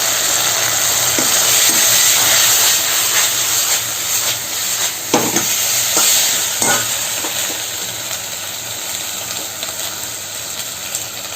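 Fried onion and capsicum go into a hot pan for chana chilli and get stirred, giving a loud, hissing sizzle with steam. Spatula knocks come through the frying, then the sizzle fades a little toward the end. No voices.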